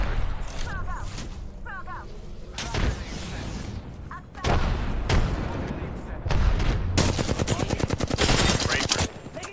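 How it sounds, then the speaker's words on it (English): Video game gunfire rattles in bursts, with single shots, rapid automatic strings and heavy thumping booms, some near and loud, others fainter, while a player talks over parts of it. "Getting shot at."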